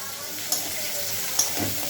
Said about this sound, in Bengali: চিংড়ি মাছ ভাজা হয়ে গেলে তুলে নেবো।